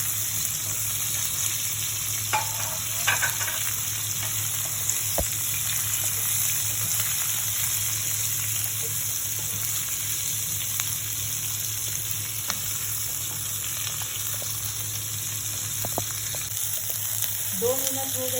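Chopped onion sizzles steadily in a hot pan while it softens, with occasional stirring scrapes and small clinks breaking through the continuous frying hiss; no one speaks.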